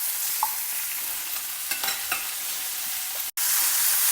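Mint leaves, a small piece of tamarind and golden-brown dals being sautéed together in a pan give a soft, steady frying hiss, with a few light scrapes of stirring partway through, close and alone.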